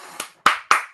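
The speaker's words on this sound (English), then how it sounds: "Clap, clap." Four sharp hand claps land one after another in a loose, uneven rhythm. Each is close and crisp and stands alone against near silence.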